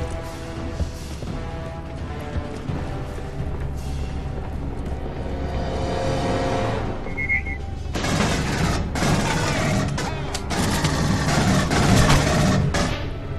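Rapid bursts of gunfire from the video game Aliens: Colonial Marines, loud and sustained, with heavier volleys toward the end and no talking.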